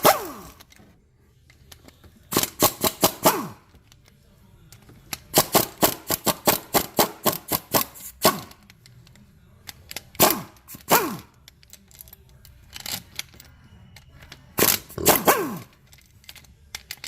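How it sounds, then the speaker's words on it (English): An impact wrench removes transmission bolts on a 2004 Scion xB during a fifth gear swap, firing in several loud rapid hammering bursts separated by short pauses, close to the microphone. "we'll go ahead and get the bolts we can with the impact"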